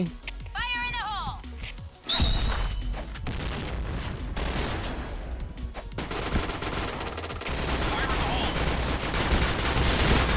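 Rapid gunfire from the online shooter Point Blank, fired from a G11 rifle, crackles in dense bursts throughout, with a voice talking over the shots.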